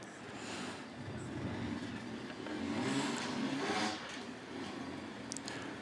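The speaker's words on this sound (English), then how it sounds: "we can hear Mario firing that bike up, getting it revving hard to get himself high as possible" An off-road motorbike engine fires up and revs hard at a freestyle riding event, a fairly distant roar that swells and fades over a few seconds beneath crowd ambience and a commentator's voice.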